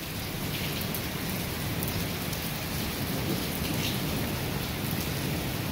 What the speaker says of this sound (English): So many thunderstorms.